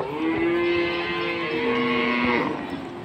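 Cattle low loudly and close by at Hazratpur cattle market in Keraniganj, Dhaka, one long drawn-out moo lasting about two and a half seconds over busy market background noise.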